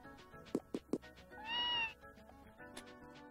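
Several short cat meows in the Super Famicom game Tales of Phantasia: three quick close chirps in a row, then a longer, tonal, drawn-out meow, set over soft game background sound.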